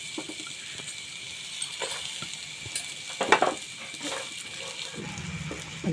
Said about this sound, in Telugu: నూనె వేడైనాక ఉల్లిపాయలతో సన్నగా కట్ చేసి వేసుకోవాలి